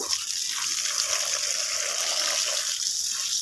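Water pours steadily onto plants in a home garden, an even, hissing splash that runs on alone without breaks.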